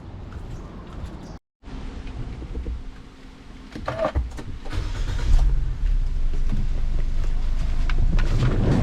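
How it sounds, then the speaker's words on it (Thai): A 2014 Nissan Juke 1.6 engine cranks and catches after a brief silence, then settles into a steady idle rumble that grows louder, with clicks and faint handling noise. "เดี๋ยวสตาร์ทเครื่องให้ฟังเสียงเครื่องยนต์ดีกว่า"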